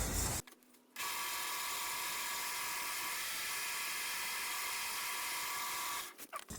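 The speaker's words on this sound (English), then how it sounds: "I'm going to center drill this hole with a 1/2 inch drill bit." A drill with a 1/2 inch bit bores a center hole through an MDF disc, a high steady whine starting after a brief pause and running evenly for several seconds before winding down.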